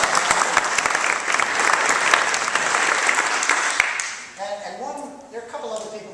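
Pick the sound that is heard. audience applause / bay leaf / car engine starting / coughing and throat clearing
audience applause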